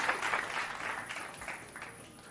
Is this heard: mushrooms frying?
no